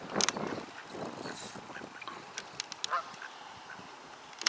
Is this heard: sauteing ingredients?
no